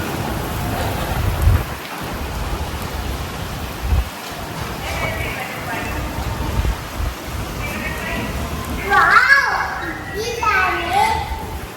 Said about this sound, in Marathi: खूप जोरात वारं सुटले आणि पाऊस पण आलाय